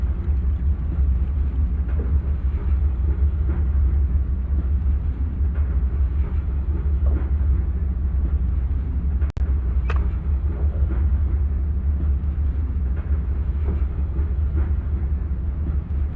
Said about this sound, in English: The train is responding smoothly to the throttle adjustments.